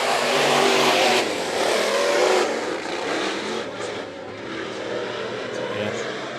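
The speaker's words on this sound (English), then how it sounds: "IMCA Northern Sport Mods. It was an interesting hot lap session, and now we go green for their first time" IMCA Northern Sport Mods roar around the 3/8-mile dirt oval at Bakersfield Speedway, Kern Raceway, as their heat race goes green. A pack of engines accelerates and revs at a moderate distance beneath a voice talking over the action.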